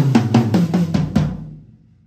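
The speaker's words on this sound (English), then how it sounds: "when I do a descending fill, it sounds like this." A descending drum fill rolls down the toms in about six fast, evenly spaced strokes and finishes on a higher 8-inch tom, close and punchy, the final hit decaying into silence.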